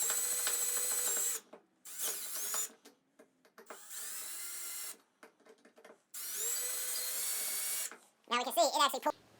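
Power drill spinning a left-handed drill bit to back out a broken bolt, several loud high-pitched whirring bursts separated by pauses and short clicks, ending in a shorter wavering run.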